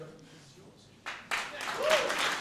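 Audience applause at the Liet Ynternasjonaal 2014 award ceremony, rising suddenly after a quiet start and continuing as steady clapping with a voice speaking over it.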